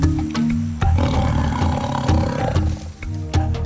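Bengal tiger roaring in India, a loud, deep, rumbling roar close by that swells and breaks into several heavy bursts, with no talk.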